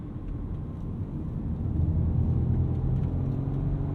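A 2022 Volkswagen Golf R with a six-speed manual cruises gently on a road strewn with wet leaves, its steady low engine and road rumble swelling slightly and holding close and even, with no voices.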